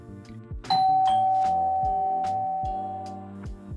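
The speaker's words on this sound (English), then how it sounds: "So I'm gonna type in doorbell." A doorbell chime previewed on a phone plays through a small speaker, a sustained ringing tone with a series of bell-like notes, clear and close, no talking.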